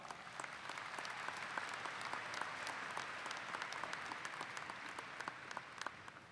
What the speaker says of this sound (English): Please give our Board of Regents a round of applause.